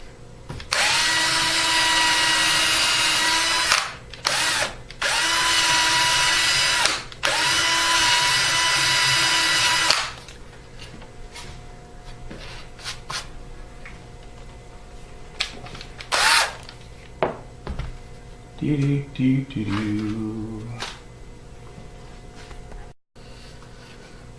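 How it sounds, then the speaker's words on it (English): A power drill bores a bit through an electric guitar body in three loud, sustained bursts with brief pauses between them, then quieter clunks and handling noises. "I'm going to drill that through with a bigger bit first"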